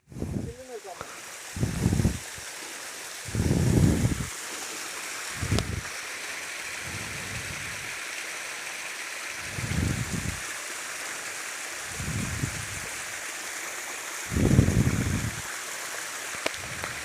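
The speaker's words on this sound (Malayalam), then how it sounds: "മേലെ നിന്ന് വെള്ളം വരുന്ന നോക്കിയേ" Water flowing down from above in a stream near an elephant camp, a steady rushing wash running throughout, with voices talking in short bursts over it.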